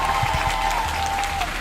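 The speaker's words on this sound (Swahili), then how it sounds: "Mpigie Bwana Yesu makofi." A church congregation breaks into steady applause in praise of Jesus, a dense wash of clapping held at one level from start to finish, with no voices standing out.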